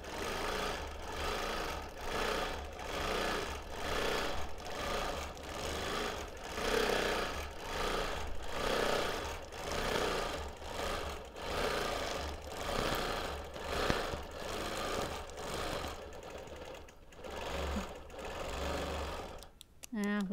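A sewing machine quilts with Deco Bob thread, stitching in a fast, steady mechanical rhythm of regular pulses, close and moderately quiet, with a brief pause and restart near the end.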